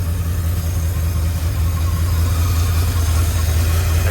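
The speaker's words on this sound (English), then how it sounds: "That sure sounds like she's idling, huh?" A 1952 Cadillac barn find engine idles steadily up close, a deep low rumble with a constant drone and faint vibration, unbroken and with no voices.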